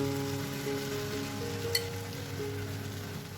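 Sabudana khichdi frying in a pan with cumin powder, a faint, steady sizzle with a low background hum and a single brief clink.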